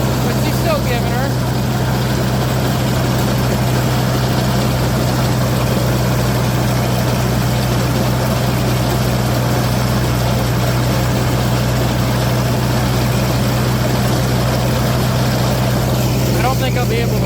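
A Case 504 tractor engine running while driving during haymaking, a constant loud droning hum with a steady low tone and no letup, with a voice speaking over it.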